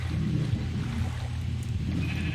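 Sheep bleating in the video game Minecraft, a steady low droning bleat running through the whole moment at moderate loudness, with no talking.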